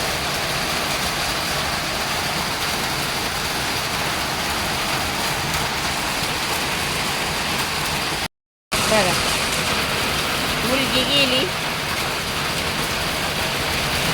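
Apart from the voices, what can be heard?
heavy rain pouring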